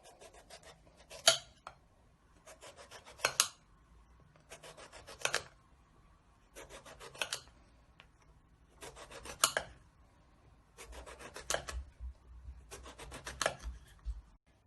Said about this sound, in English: now I'm just going to be cutting some thin slices of the aubergine